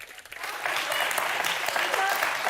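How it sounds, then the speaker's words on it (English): A studio audience on the talk show The View claps in sustained, dense applause that builds quickly and holds steady, with a voice faintly underneath. "Yeah, clap it up, clap it up."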